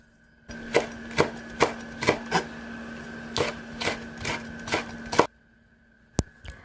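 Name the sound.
knife chopping onion, chives and red chili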